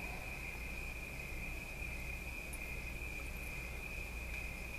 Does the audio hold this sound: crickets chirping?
yes